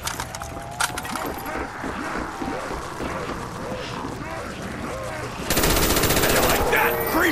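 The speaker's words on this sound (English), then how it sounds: "Did they enhance the gun sounds in this? Sounds really good." Rapid automatic gunfire rattles on steadily in Black Ops custom zombies on the Kino Der Toten map. The shots are loud and close, growing denser and harsher in a heavier burst toward the end.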